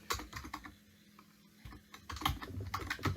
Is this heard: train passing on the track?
no